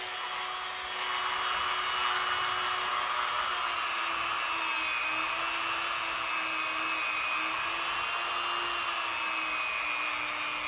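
A rotary polishing nub spins steadily against a stainless steel SKMEI digital watch, giving a continuous high-pitched whir with a faint wavering tone, close and alone for the whole stretch.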